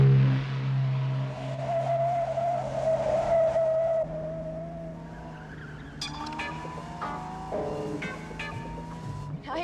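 A car driven fast, its engine note holding steady and then dropping as tires squeal and skid, sharp screeches and scraping piling up in the second half, loud and close.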